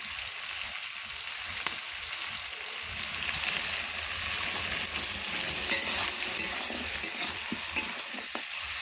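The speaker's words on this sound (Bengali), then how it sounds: "একটু কষে নিচ্ছি" Ginger paste and pumpkin-green stalks sauté in a hot pan, giving a continuous bright sizzle broken by scraping stirs and small pops, close and steady with no talking.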